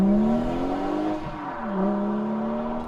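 A BMW B58 straight-six engine revs up and down, its smooth tone climbing, dipping and rising again over a few seconds, loud and close.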